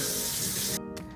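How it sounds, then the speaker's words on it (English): Warm water running from a tap into a measuring cup, a loud steady broadband rush that cuts off abruptly near the end, with a brief trickle after. "I'm going to fill this up with actually 60 milliliters of warm water."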